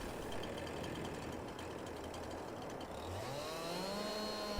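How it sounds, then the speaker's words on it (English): A Husqvarna chainsaw in Farming Simulator 22 drones steadily and loudly throughout, its engine pitch sweeping upward near the end as it revs to begin cutting a tree. "Bought myself a little Husqvarna chainsaw as well."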